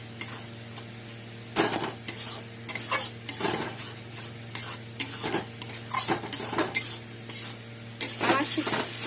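Dried fish (shutki) stir-fried with spices and plenty of onion in a pan, with a steady low sizzle broken by repeated scraping strokes of a spatula against the metal, close and fairly quiet.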